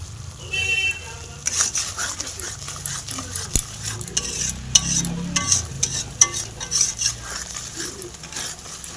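Spice masala with a little sugar being stirred and fried in a pan, a close sizzle under repeated scraping strokes and clinks of a utensil against the metal, uneven in rhythm and continuing throughout.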